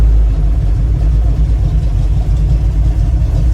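A 1971 Chevrolet Nova engine idles with a steady, deep, loud rumble close by, running evenly throughout without any revving.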